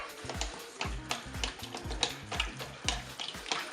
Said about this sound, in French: Et je mélange bien ensemble